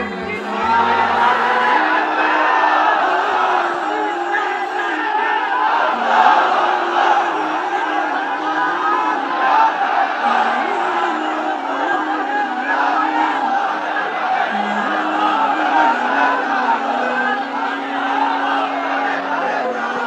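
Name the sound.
crowd shouting the takbir (Allahu Akbar) at a sermon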